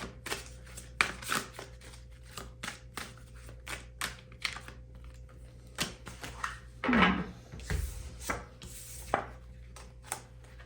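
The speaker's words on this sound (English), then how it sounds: "when I was shuffling the cards" Tarot cards being shuffled by hand, a quiet close series of crisp riffling slaps and flicks in an irregular rhythm, with soft rubbing between strokes and no talking.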